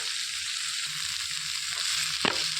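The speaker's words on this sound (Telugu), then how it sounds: "ఇందులోనికి ఉల్లిపాయలు వేసుకొని వేయించుకోవాలి" Onions sizzle steadily in a hot pan while cooking for an amaranth leaf curry, a close, even hiss of frying with a quick stir or clink near the end.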